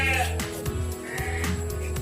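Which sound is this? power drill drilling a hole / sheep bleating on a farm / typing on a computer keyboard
sheep bleating on a farm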